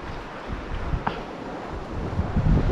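Wind gusting along a rocky seashore under a suddenly clouding sky, a broad steady rush with low rumbling buffets on the microphone and faint surf beneath, no speech.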